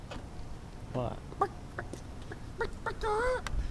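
Hypnotized person imitating a chicken, giving short scattered clucks and a rising squawk outdoors near a sidewalk, fairly faint and mixed with other voices talking.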